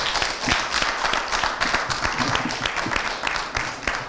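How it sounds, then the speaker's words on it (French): An audience at a children's Christmas spelling contest claps for the young participants, a dense, fairly loud run of clapping with distinct individual hand claps throughout, close to the listener. "Est-ce qu'on peut les applaudir encore plus fort?"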